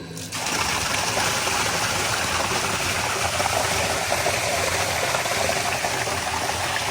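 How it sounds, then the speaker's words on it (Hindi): Water runs steadily and loudly into a container at home, a dense continuous rush that starts abruptly and holds without pause. "मैं इसमें पानी लगवा रहा हूँ।"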